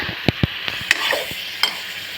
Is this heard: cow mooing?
no